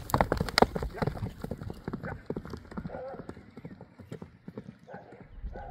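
Horse hooves clip-clop in a quick, steady rhythm close by as the animal moves lightly, with people talking over much of it and a brief whinny-like sound near the end.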